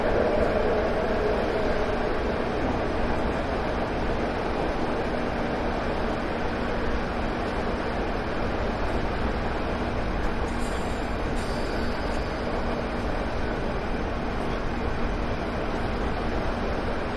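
A train slowing on approach to Patchway station in Train Simulator 2018, a steady low rumble and hiss of the running cab with a faint hum, even and continuous throughout.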